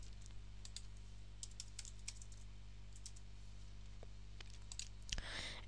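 Typing on a computer keyboard in Notepad on a Windows PC: quiet, uneven bursts of key clicks over a low steady hum, with one sharper click near the end.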